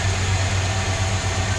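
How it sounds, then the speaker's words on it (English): Original 318 V8 in a 1970 Dodge Polara wagon idling steadily, a low, even rumble that holds close and unbroken with no voices. "It's a 1970 Dodge 318, which is original to the car."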